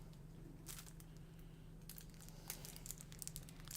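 Cellophane wrapping from a board game box rustled by a cat, with irregular close crinkles and crackles in short bursts.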